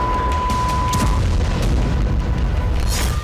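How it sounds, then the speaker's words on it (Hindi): Two back-to-back explosions in the Russia-Ukraine war, caught on a car dash cam: loud, deep booming rumbles continuously, with a steady tone early on and sharp bursts scattered throughout, no voices present. "तभी अचानक गाड़ी के डैश कैम में बैक टू बैक 2 धमाके नजर आते हैं"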